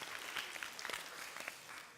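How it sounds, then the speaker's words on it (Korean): A church youth group claps for the youth during a Sunday service, a fairly soft, steady patter of many hands that is fairly distant and fades slightly toward the end. "우리 수고했는데 박수 한번 줍시다"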